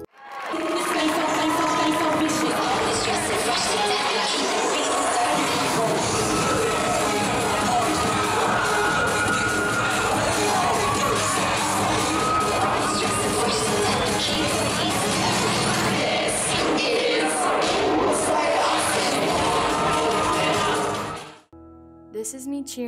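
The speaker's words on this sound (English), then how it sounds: "This is me cheering at Syosset High School." Loud crowd cheering and shouting at a high school cheerleading event at Syosset High School, a dense continuous roar of voices running for about twenty seconds before cutting off abruptly.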